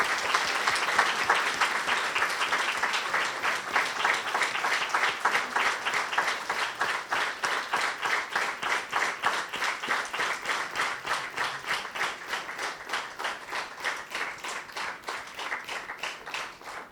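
A festival crowd at a Hungarian village new-bread celebration and award ceremony claps steadily for a long stretch, the applause settling into a regular rhythmic beat as it continues and slowly fades a little.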